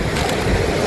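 Heavy monsoon rain pours at the foot of Harishchandragad in the Sahyadri mountains, a loud, dense, steady hiss and wash with wind buffeting the microphone throughout the short moment.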